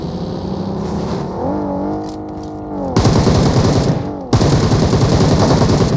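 Automatic gunfire from the mobile battle-royale game PUBG Mobile rattles out in loud, rapid, evenly spaced bursts. A brief gap separates the two bursts, and a whirring engine-like tone comes before them. No one talks.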